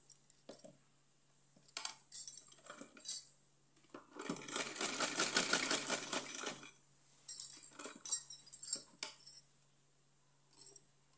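Domestic sewing machine stitching a slanted seam on a lightweight cotton summer outfit for a small Laddu Gopal figure: short clattering bursts, then a steady run of rapid stitching lasting about two seconds, followed by more brief clicks and handling noises.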